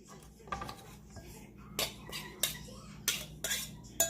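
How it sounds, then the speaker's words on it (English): Fresh pico de gallo being stirred in a bowl, a series of close, bright clinks and scrapes of a utensil against the bowl in irregular bursts, with soft wet shuffling between them. "So we stir that around"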